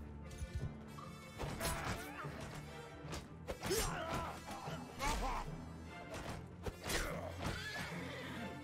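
Horses in the Mount & Blade II: Bannerlord Warhammer mod neigh and whinny amid a chaotic battle clash of crashing, smacking weapon hits and hoofbeats, busy and layered throughout.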